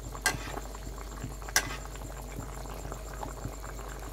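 Pangas fish curry with okra and potato simmering in a pot, a low bubbling patter with a couple of sharp pops, close and steady, no voices.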